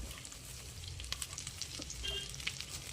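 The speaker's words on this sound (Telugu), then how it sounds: "మళ్ళీ కొద్దిగా ఆయిల్ తీసుకొని ఈ ఆకు అయితే వేసుకుందామండి. సిమ్లో పెట్టుకొని బాగా ఫ్రై చేసుకోవాలి." Moringa leaves frying in a little oil over low heat, a soft steady sizzle with occasional crackles and pops, close and quiet with no voices.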